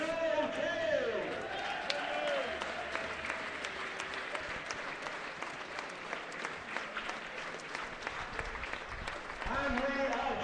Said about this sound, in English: Pedro Eccles still manages to get a standing ovation from the Rovers crowd all these years on.